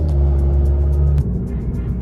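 Alpine A110 sports car with a turbocharged 1.8-litre four-cylinder engine, its induction note a steady, close rumbling drone that shifts character briefly midway, heard alone without talk.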